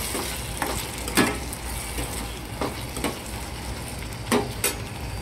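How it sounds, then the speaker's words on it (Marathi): Tamarind pulp cooks in a spice masala for sambar, a soft steady sizzle broken by several scraping stirs of a spoon in the pan, close up with no one talking. "तर आता परत आपण चिंचेचा कोळ मस्त चांगला थोडंसं शिजवून घेणार आहे मसाल्यामध्ये"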